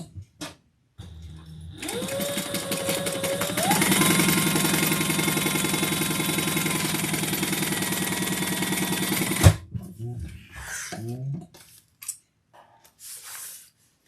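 Sewing machine stitching across the top of a Monroe handbag with wrong sides together, its motor winding up and running in a steady loud whir for about seven seconds, then stopping with a clunk before quieter handling sounds.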